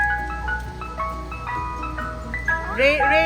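A tinkling ice cream truck jingle plays a melodic tune throughout, its notes rising clearly over background chatter and excited children's voices, with brighter, louder chimes toward the end.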